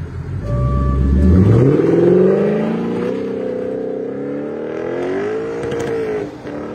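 A 5.0 V8 car with Dynomax race bullet mufflers and a rear-delete 2.5-inch exhaust pulls away, its loud deep rumble rising as it revs up, then holding a steady growl close by.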